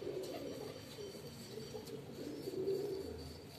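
A pet pigeon coos in low, soft, repeated murmurs at moderate distance, a steady throaty rumble running through the whole stretch with faint background noise and no talking.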